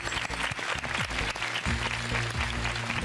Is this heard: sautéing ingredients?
no